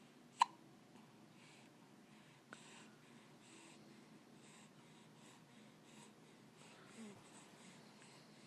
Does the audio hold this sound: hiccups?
yes